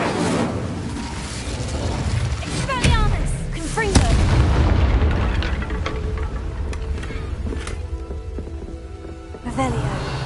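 Fire spell cast in Hogwarts Legacy: repeated booming, crackling bursts of magic fire over a dense, busy wash of game music and effects, with a few sharp hits standing out and voices mixed in.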